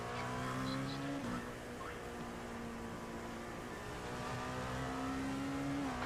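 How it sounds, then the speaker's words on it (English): A race car engine in a racing video game at Sebring during a 24-hour endurance race drones steadily with a sustained tone that shifts pitch slightly, soft and continuous, with no talking. "There's a car approaching."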